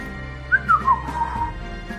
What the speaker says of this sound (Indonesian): Kemudian di belakangnya terdengar suara siulan.